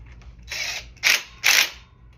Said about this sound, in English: tighten them down pretty tight, but don't break the bolts